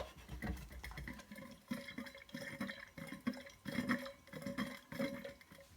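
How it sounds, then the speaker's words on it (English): Water sloshes back and forth inside a 64 oz Ozark Trail thermos, about 2 or 3 inches of meltwater, while ice clinks and rattles against the walls in repeated swishes. "I'll give it a swish so you can see how much water's melted."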